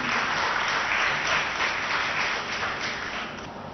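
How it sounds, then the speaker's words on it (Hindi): Loud, sustained audience applause at an awards final on stage, a dense continuous clapping wash with no talk over it. "जोरदार तालियां"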